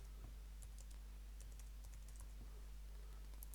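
Quiet keystrokes tap on a computer keyboard while code is typed, a faint, irregular run of close clicks over a low steady hum.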